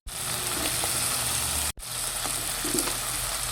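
Bottle gourd (upo) and sardines sautéing in a pan, a continuous close sizzle and hiss with faint stirring clinks, briefly cut by a short break midway.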